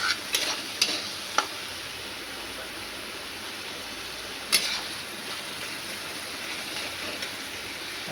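Spice paste stir-fried for a Bengali soyabean curry gives off a steady, moderate broadband sizzle with a few sharp scraping clicks from the spatula near the start and middle, and no voices.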